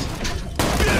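Slag gun fire in the Borderlands 2 video game: a sudden loud, dense burst of rapid shots begins partway through and keeps going to the end, with a steady background of game noise before it.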